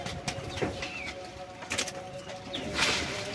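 Pigeons in a coop coo and stir, with short calls and a few brief wing flaps over a low steady background hum, heard close and without any talk.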